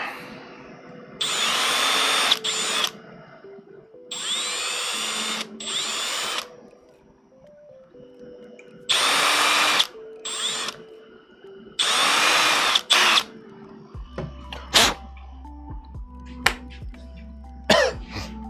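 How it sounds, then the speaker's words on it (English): A power drill whirs in several short bursts separated by pauses, drilling out a hub on an RC truck kit, loud and close, followed by clanks and a low hum near the end. "Drill that out."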